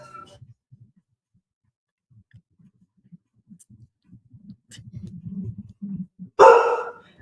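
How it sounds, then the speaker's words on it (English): Dogs barking indoors, faint and intermittent at first, then a closer cluster of low barks and a single loud sharp bark near the end. "So my dogs are going to bark for a bit."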